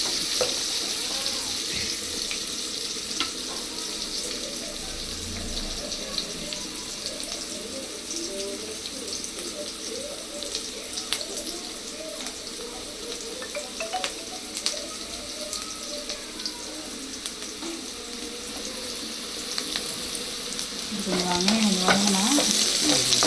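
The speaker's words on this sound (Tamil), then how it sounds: "தோசை மாவும் எடுத்து வச்சுருக்கேன் தோசை ஊற்றணும்" Dosa batter sizzles on a hot pan in a home kitchen, a steady, moderately loud frying hiss that carries on for the whole stretch with scattered small clinks and movement noises.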